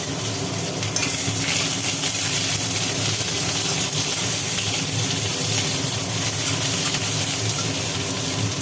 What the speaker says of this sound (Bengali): পেঁয়াজটা একটু ভাজি ভাজি করা হচ্ছে